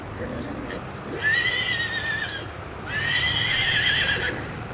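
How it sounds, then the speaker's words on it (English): A horse whinnies twice in succession, two bright, wavering neighs standing out clearly over a low background hum, with a faint clip-clop of hooves. "All right, this is a horse."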